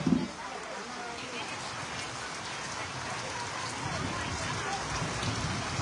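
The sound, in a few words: heavy rain falling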